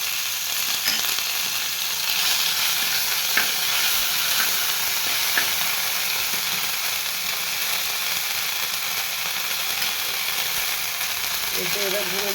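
Ginger, garlic and green chili paste frying in oil for katla fish kalia, a steady bright hiss and sizzle that runs unbroken for the whole stretch with faint kitchen sounds.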